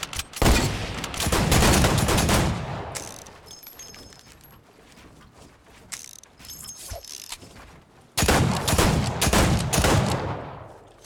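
Shootout in a video game with dynamite in play: dense, loud volleys of gunfire in two heavy bursts separated by a quieter stretch of scattered shots and mechanical clicks, with no voices.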